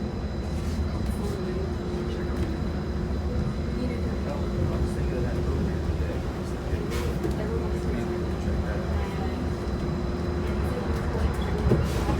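A Disneyland monorail glides past Fantasyland with a steady, even rumble and hum from inside the car, and a voice speaks over it throughout.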